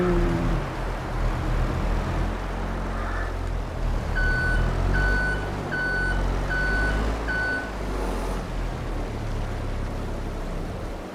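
A dump truck in Farming Simulator 22 sounds five evenly spaced reversing beeps over a low, steady engine rumble, clear and fairly close.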